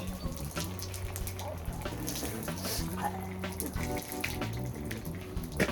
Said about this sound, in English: So that's a fairly heavy rainstorm.